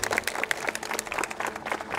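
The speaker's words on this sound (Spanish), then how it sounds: "Un aplauso, por favor." Guests at a wedding applaud after the vows, a short burst of fairly close, uneven handclapping with a few sharp individual claps, lasting about two seconds.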